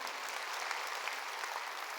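A church congregation claps together during a sermon at a Korean church service, a steady dense wash of applause with no speech over it.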